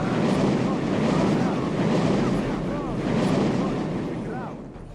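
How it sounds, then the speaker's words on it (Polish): A strong gust of wind in the video game Gothic 1, heard as a loud, steady rushing roar that swells and eases over several seconds. "Dobra, uderzenie wiatru."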